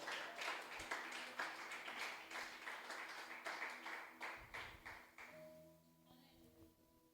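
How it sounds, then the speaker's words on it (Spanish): A church congregation applauds at low level, a run of rhythmic claps and taps that fades after a few seconds into quieter hall sounds with a lingering tone. "Alguien tiene que aplaudir a Dios aquí"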